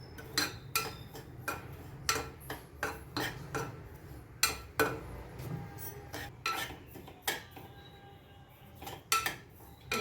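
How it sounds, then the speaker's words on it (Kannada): Semolina (rava) is dry-fried in a pan for vegetable upma, heard as a rhythmic series of sharp spoon scrapes and clinks against the metal, fairly close, over a soft background hiss. "ಇವಾಗ ರವೆ ಹಾಕೋ, ಇದು ಸ್ವಲ್ಪ ಲೈಟ್ ಬ್ರೌನಿಶ್ ಆಗೋ ತನಕ ಫ್ರೈ ಮಾಡ್ಕೋಬೇಕು"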